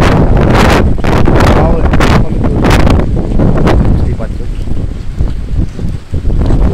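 Loud, blustery wind buffets the microphone in heavy gusts, with rain mixed in, while a person speaks briefly over the roar.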